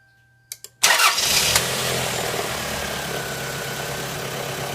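A Toyota RAV4 engine cranks with a couple of short clicks, catches with a loud roar, then settles into a steady, even idle that continues to the end, with no voices.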